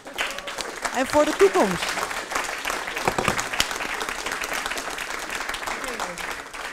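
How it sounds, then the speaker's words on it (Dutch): An event audience applauds for Schoonschip, a fairly soft, scattered clapping that continues throughout while people talk over it. "Groot applaus voor Schoon Schip."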